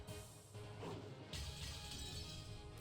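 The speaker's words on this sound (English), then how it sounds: "the sound of breaking glass, which startled Jessica" Glass breaks in a visual-novel scene: a short smash arrives partway through, followed by a bright, scattering shatter tail that lingers over a low ambient bed, fairly quiet overall and with no voices.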